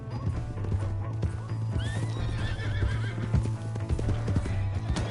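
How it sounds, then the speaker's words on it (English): A horse in the Red Dead Redemption 2 video game gallops with rapid clip-clopping hooves and lets out a loud whinny, with music or other game sounds beneath. "Hey, that's my horse!"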